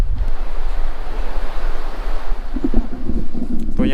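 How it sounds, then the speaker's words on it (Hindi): A river flows below stone steps at a hillside shrine, heard as a dense, continuous rushing wash of water, close and loud, with a few faint voices and thumps near the end. "तो यहाँ पे नीचे नदी भी बहती है एक"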